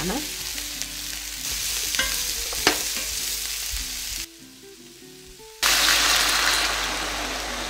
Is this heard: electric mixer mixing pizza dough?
no